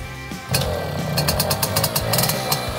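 A small, worn-out moped engine starts up and runs with a loud, buzzing rasp, revving unevenly in short surges close by.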